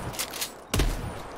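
Gunfire in the video game Blackout Squads: a few quick shots, then one louder, heavier close blast, with no talk over them.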